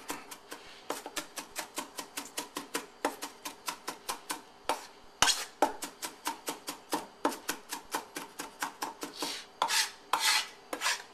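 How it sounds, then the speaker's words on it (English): A knife taps rapidly and steadily against a cutting board, finely chopping hot peppers, dozens of quick, sharp chops in an even rhythm with brief pauses. "you can take your knife and just keep going through it until you get it fine"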